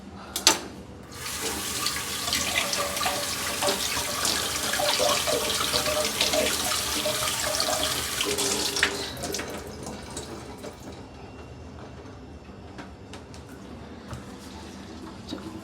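Tap water runs steadily while a bottle gourd is washed under it, a continuous splashing hiss for about nine seconds that then fades to quieter drips and faint handling sounds.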